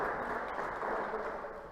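Church congregation applauding during a sermon, a steady, dense wash of clapping that holds at an even level throughout with no voices standing out.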